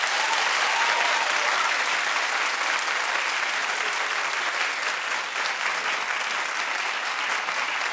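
A television studio audience at a talk show claps loudly and continuously, a thick, even roar of many hands from start to finish with no break.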